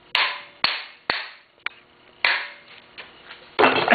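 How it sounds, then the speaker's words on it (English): A tool taps sharply on screws in the engine of a Polaris XLT 600 triple snowmobile. The hits come as a series of close, loud metallic knocks at uneven intervals, followed by a longer scraping burst. "Now what I do is I tap the screws first."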